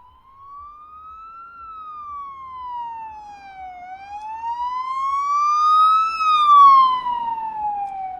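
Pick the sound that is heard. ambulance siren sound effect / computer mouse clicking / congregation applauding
ambulance siren sound effect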